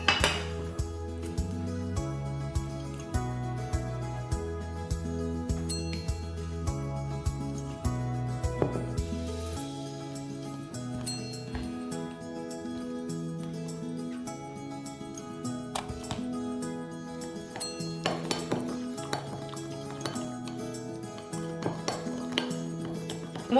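A spoon stirs homemade fake blood of honey and chocolate in a dish, giving light repeated clinks under steady background music.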